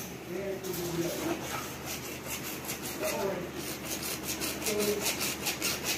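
A hand saw cuts through electrical conduit pipe during a house electrical renovation, giving steady repeated rasping strokes up close, with people talking over it.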